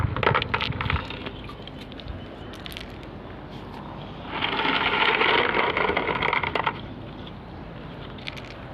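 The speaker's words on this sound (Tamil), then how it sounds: "நம்ம கல் எடுத்து வெளியே வைக்கலாம்." Stones are lifted out and handled, giving loose clattering, knocking and scraping of rock against rock. The sound is close and irregular, with a denser stretch of rattling midway and no talking.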